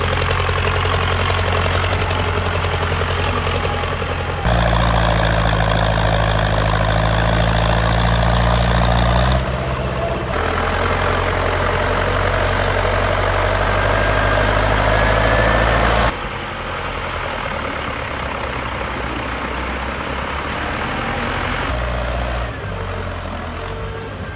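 Big logging trucks run their heavy diesel engines, a deep rumbling idle that swells into louder roaring passages, shifting in level between sections and continuing without voices.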